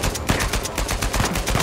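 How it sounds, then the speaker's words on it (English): Rapid automatic gunfire rattles through a firefight in the video game Uncharted 4: A Thief's End, loud and dense bursts repeating steadily with no voices over them. "Where am I getting shot at from now?"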